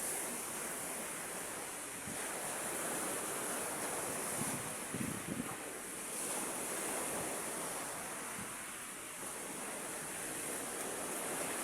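Waves washing onto a beach shore strewn with dumped trash, a steady broad roar of surf with gentle swells in intensity, mixed with wind buffeting the microphone, no voices.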